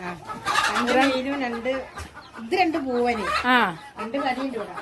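Hens on a small poultry farm cluck close by in repeated, rising and falling runs, loud and busy, with pauses between bursts.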